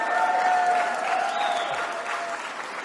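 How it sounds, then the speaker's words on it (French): Applause from an audience gathered for a political speech to the French community in Montréal, a dense, steady wash of many hands clapping that stays loud for about three seconds and eases off slightly toward the end. "Si tu veux être applaudi, tu dis Roland Lescure."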